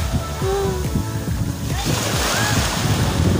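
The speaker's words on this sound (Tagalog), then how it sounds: "Malakas yung alon po." Strong ocean waves surge and break at Puka Beach on Boracay during high tide. The surf roars steadily under gusty wind buffeting the microphone.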